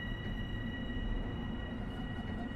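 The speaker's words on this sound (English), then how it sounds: "Sounds like a train next to me or something." Low, steady rumble of a Long Island Rail Road train in Train Sim World, a broad continuous drone with faint tonal hum above it, close by and unchanging throughout.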